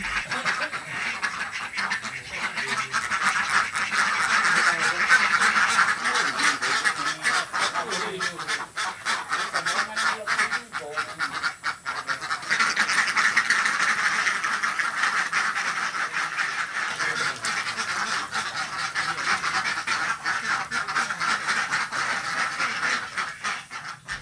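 A large flock of laying ducks quacks nonstop, a dense, loud chorus of overlapping calls that never pauses.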